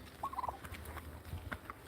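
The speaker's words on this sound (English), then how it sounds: "The chickens are so nice." Chickens clucking nearby on a farm, a short burst of throaty calls followed by a quieter second call over faint outdoor ambience.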